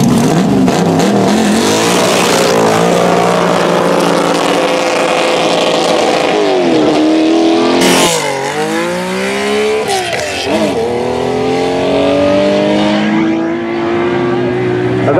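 Supercar engines revving and accelerating loudly at Horsepower Hill during the Heveningham Concours, a sustained roar with rising and falling pitch sweeps as cars pass close, crowd noise and voices underneath.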